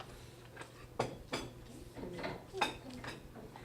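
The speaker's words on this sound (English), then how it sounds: "Please put down your dishes in front of a judge." Plates and dishes are set down on a table before judges at a cooking competition: a few soft, separate clunks and clinks spaced across a quiet room.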